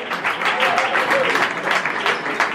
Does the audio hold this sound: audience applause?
yes